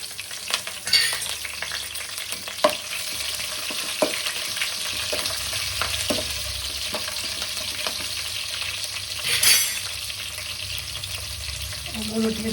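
Green chillies fry in a pan for sorakaya pappucharu, a bottle gourd lentil stew, giving a steady close sizzle with scattered scraping and stirring taps throughout.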